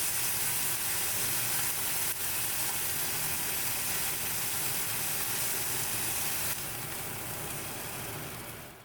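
Fat cap on the side of New York strip steaks searing in a hot cast iron pan, giving a steady loud sizzle and hiss that drops slightly near the end.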